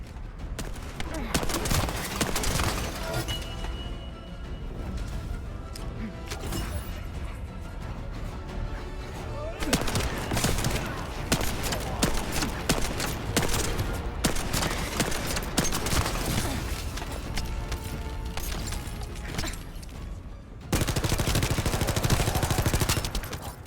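Submachine gun fire aimed at Vulgus enemies in The First Descendant, with repeated bursts running through dense game music and effects, staying loud from start to finish and getting louder near the end.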